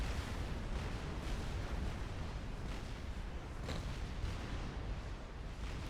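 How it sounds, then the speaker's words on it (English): Artillery shells land in a Supreme Commander battle as a dense, continuous rumble of distant explosions, with a few sharper booms standing out from the roar. "Artillery landing still."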